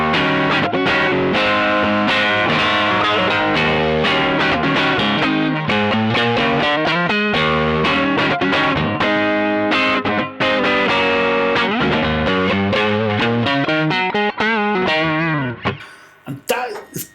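An electric guitar plays chords and riffs through a crunchy overdrive, loud and sustained with a thick midrange, ending abruptly with a few fading notes.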